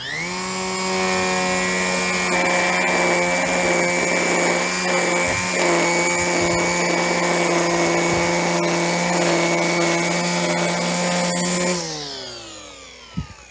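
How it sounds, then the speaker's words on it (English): A Makita DUR189 cordless grass line trimmer runs at a steady high-pitched whine while edge trimming, loud and close for about twelve seconds before it spins down and stops. "Let's do a bit of edge trimming."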